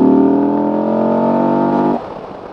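A KTM 1290 Super Adventure with a Rottweiler intake pulls hard as the throttle opens, a loud, rising engine note holding for about two seconds before the throttle closes and it falls back.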